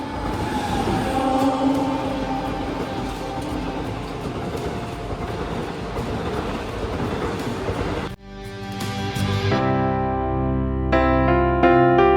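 A train running at a railway platform gives a steady broad rumble and rattle for several seconds, then cuts abruptly to a tonal music passage.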